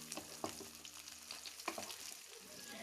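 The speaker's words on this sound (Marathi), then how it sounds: "हे आता चांगलं भाजून घ्यायचं आहे तेलामध्येच परतवून एखाद मिनिट" Sliced onion and capsicum sizzling steadily in hot oil in a wok, a continuous crackling fry with occasional louder clacks of a spoon stirring, close up and with no talking.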